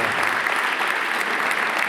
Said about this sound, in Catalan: li féssiu un fort aplaudiment